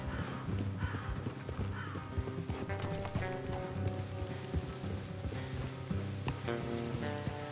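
Horse hooves clip-clop steadily over a busy Red Dead Redemption 2 game soundtrack, with rustling and an occasional whinny mixed in.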